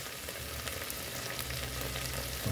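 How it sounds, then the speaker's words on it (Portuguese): A continuous soft sizzle of shrimp frying in oil, even and low, with faint crackles and no voices. "E aí agora tá fritando, ó."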